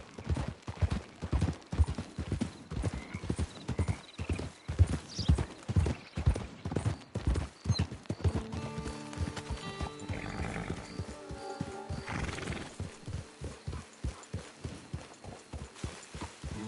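Hooves clip-clop in a steady, close, loud rhythm as a horse travels in Red Dead Online, with a whinny partway through and more hoofbeats after it.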